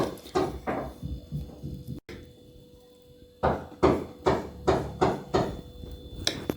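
Hammering from a neighbour's renovation in an apartment building comes through in rhythmic bursts of knocks, loud and close, with a short quiet gap partway through.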